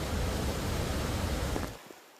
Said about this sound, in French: image impressionnante de la cascade de Geisteiner Fall qui s'est transformée en un énorme torrent d'eau